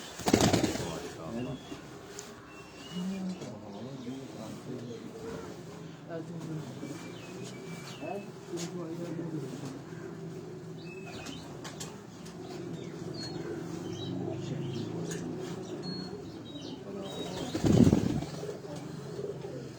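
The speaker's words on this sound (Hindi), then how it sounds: "उनके घर के ये कबूतर, ये जितनी भी फीमेल है, ये मादाएं हैं, ये सब प्रवासी कबूतर हैं उनके" Female migratory pigeons at a home loft keep up a low, continuous cooing murmur, with a sharp burst of wing flapping near the end and a voice talking at times.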